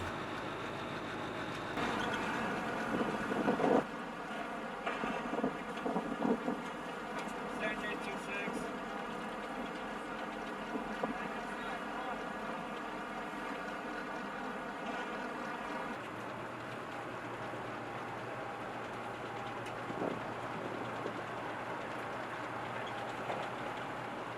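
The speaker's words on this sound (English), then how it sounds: "Each ferry is propelled and steered by each of the M3 amphibious rigs, 2 fully traversable pump jets at speeds up to 14 km an hour." An M3 amphibious rig ferry propelled by two traversable pump jets during a military wet gap river crossing, giving a steady loud machine drone with a tonal hum throughout, under a voice speaking.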